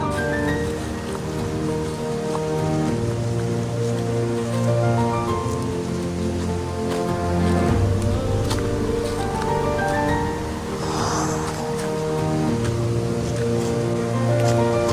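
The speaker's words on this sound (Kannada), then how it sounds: "ಹರಿದು ಬರೋ ನೀರು" Water rushes steadily near Mukti Hole Falls in Uttara Kannada, a dense, continuous hiss and roar that runs unbroken under a faint low tonal hum.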